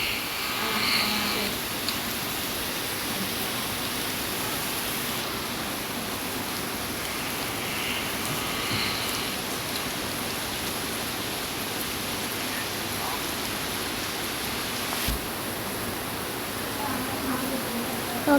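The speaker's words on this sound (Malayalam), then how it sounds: "എൻ്റെ വീട്ടിലിവിടെ നല്ല പെരും മഴയാണ്." Heavy rain pours outside a house in a steady, dense hiss that runs unbroken throughout, fairly close and even in loudness with no voices over it.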